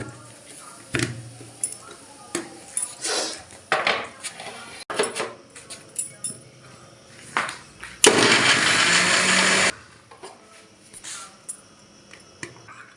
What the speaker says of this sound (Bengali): মিক্সিতে দিয়ে আমরা এটাকে গলিয়ে নেব তারপর রসটা ছেঁকে নেব এর মধ্যে এবার দিয়ে দিলাম অরেঞ্জগুলো এবার একটু গুড়িয়ে নেব